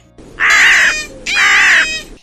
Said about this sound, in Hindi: हवा में उड़ते हुए कौवे को देखकर